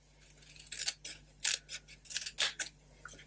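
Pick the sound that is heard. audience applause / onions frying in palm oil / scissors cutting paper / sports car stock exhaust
scissors cutting paper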